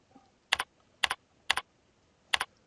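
Keystrokes on a computer keyboard while code is typed, four crisp double-clicking taps spaced about half a second apart, close and quiet with no one speaking.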